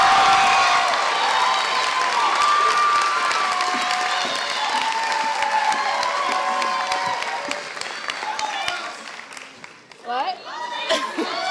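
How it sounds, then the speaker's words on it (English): Loud applause and cheering from a graduation audience greet a student speaker, a thick crowd roar with shouts that fades toward the end as voices take over. "Let's save all that applause for our amazing student speaker"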